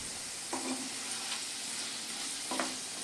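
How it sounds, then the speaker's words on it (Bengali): Potatoes fry in hot oil with panch phoron, a steady sizzle filling the background while a utensil scrapes and stirs the pan in two distinct strokes. "আলুটা খুব ভালো করে লাল লাল করে তেলে আমি ভেজে নেব।"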